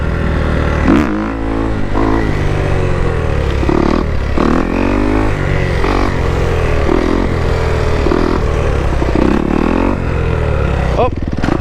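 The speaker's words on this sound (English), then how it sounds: "now I'm gonna try like my type of wheelies where I like to swerve" Motorcycle running a wheelie-focused ECU map revs hard through repeated power wheelies and swerves, engine rising and dropping in pitch with loud throttle bursts close to the mic, continuous throughout.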